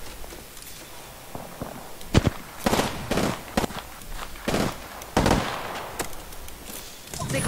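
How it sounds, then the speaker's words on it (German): Gunfire in the Apex Legends battle game cracks out in irregular sharp bursts, some single shots and some clustered, loud and close against a quieter background hiss, with no talking. "Auf mich wird geschossen."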